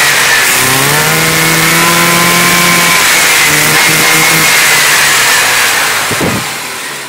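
A Subaru 360 engine, converted from carburetor and points to electronic fuel injection and not yet fully tuned, runs steadily and loud, its revs rising and dipping slightly with a clear buzzing two-stroke drone before briefly cutting near the end.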